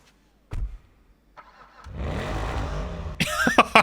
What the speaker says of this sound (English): So one of the first honorable mentions is this right here, the Schafter V12. Let's see if we can hear what this thing sounds like when you start it up.